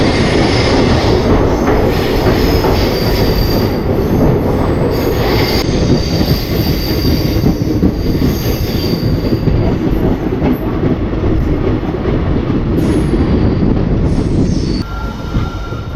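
A passenger train, number 56629 bound for Subrahmanya Road, squeals loudly on its wheels at Mangaluru Junction. A continuous, shrill metallic screech rides over heavy rolling rumble and fades slightly near the end, with no voices.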